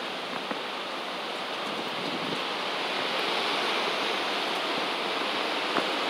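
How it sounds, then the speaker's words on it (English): Hurricane Hannah's wind gusts, around 75 miles an hour, roar as a steady, dense rush of broadband noise that swells slightly with a brief peak near the end, with no voices. "We're having wind gusts right now, probably around 75 miles an hour."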